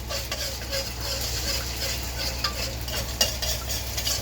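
Egg and fried rice being shaken and stirred in a hot pan for breakfast: a close, continuous sizzle with scraping stir strokes and a sharp clank near the end, without speech.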